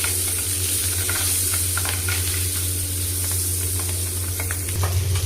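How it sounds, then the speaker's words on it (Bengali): Pabda fish frying in hot oil in a wok, a steady loud sizzle with crackling pops throughout, with no talking. "তেল গরম হয়ে গেছে, এবারে এতে আমি একটি একটি করে মাছ দিয়ে ভেজে নেব।"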